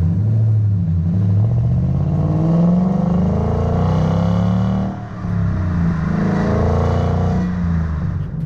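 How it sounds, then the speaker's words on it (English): A 2015-2017 Mustang GT with a Flowtech 3-inch stainless dual-exit axle-back exhaust rumbles deeply as the engine revs up through the range, dips briefly, then climbs again, loud and close. "And as you go through the RPMs and the sound gets louder, it doesn't change much."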